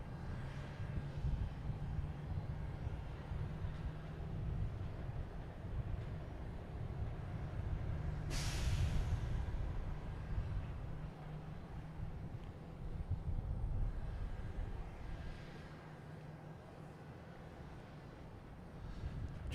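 An airliner arriving from Doha at Boston Logan Airport gives a continuous low jet rumble at a distance, steady throughout with a brief brighter swell in the middle and no voices.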